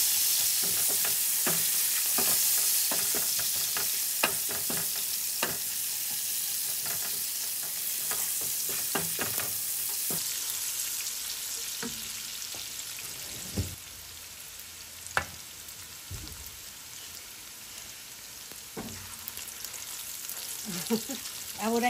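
Whole spices such as cinnamon, bay leaf, cloves, peppercorns and cardamom frying in hot oil, producing a constant crackling sizzle with scattered pops and light clinks of a utensil.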